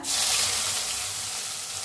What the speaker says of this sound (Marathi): मस्त तेल तापलं होतं, छान तडका बसलाय